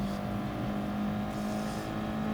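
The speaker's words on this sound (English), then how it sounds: "Straight away the Megane is just blasting up." Renault Megane race car in Gran Turismo Sport accelerating hard down a straight, a steady loud engine drone with a strong sustained tone and no voices.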